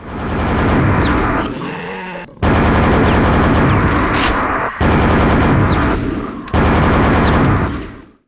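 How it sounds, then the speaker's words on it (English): Nail Gatling gun from the Quake video game firing in loud, dense sustained bursts, three long volleys broken by short gaps, harsh and close. "the nail Gatling gun is probably the best weapon in the whole game. Whatever it hits, it destroys."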